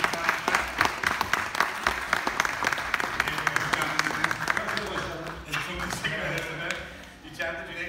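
Loud, sustained applause from an audience at the Brand Week 2017 event as a speaker is called to the stage, dense clapping that carries on steadily before thinning out near the end.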